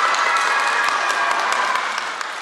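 Dense applause and cheering from a crowd of students fill the space steadily, then ease off slightly at the end, set off by a motorcycle balancing upright on a single stand on a stage.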